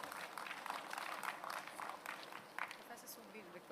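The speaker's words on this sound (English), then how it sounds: "Please join me in applauding once again the ISRO efforts." A large audience at a national space event applauds an ISRO tribute, dense steady clapping heard from a distance that slowly thins out over a few seconds.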